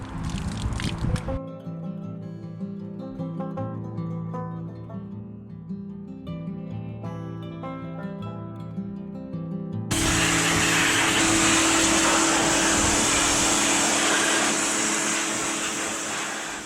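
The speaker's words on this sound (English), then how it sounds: "I don't want to wreck my jet wash." A pressure washer running warm water over a dirty electric mountain bike gives a steady broadband hiss that grows louder and harsher partway through. Earlier, low rhythmic tones play, and no one speaks.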